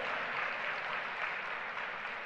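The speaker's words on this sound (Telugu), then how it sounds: "నమ్మితే మీరు చప్పట్లు కొట్టి దేవుని స్తుతించండి" Steady applause from a congregation at a church gathering, clapping in praise; a continuous, even wash of hand claps throughout, moderately faint with no voices on top.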